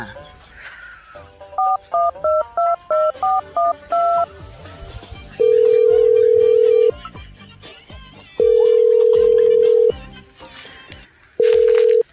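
A telephone is dialed with a quick run of keypad tones, followed by three long steady ringback tones separated by pauses. No one speaks.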